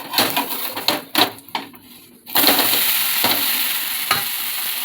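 Tomato dosa cooks in oil on a pan, with a crisp, steady sizzle and a few sharp spatters; near the start the hiss briefly drops away before resuming strongly.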